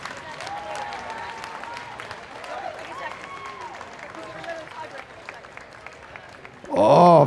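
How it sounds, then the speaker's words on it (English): Crowd applause and cheering for junior men finishing a race at the 2019 Junior & Elite Track Nationals, a steady wash of clapping under a voice talking, swelling into a loud close burst of cheering at the very end. "Let's give them a round of applause as they come through, ladies and gentlemen"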